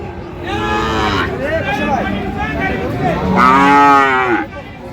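Sahiwal cows and calves at a cattle market low and moo in several drawn-out calls close by, one after another, with faint crowd chatter and market noise behind.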